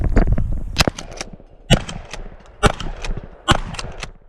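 Shotgun blasts at a three-gun shooting match, five sharp loud reports spaced roughly a second apart, each with a short ringing tail outdoors.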